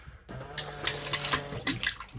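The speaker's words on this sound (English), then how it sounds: "The toilet has a flush." A luxury motorhome toilet flushes with a steady rush of water that starts abruptly, runs for about two seconds at moderate, close volume, and surges slightly near the end, with no talking.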